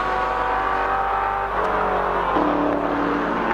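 A 1980 race car runs loud and steady along the pit straight at Bathurst during the 1000-kilometre touring car race, its engine note holding near, then shifting pitch partway through as the car passes.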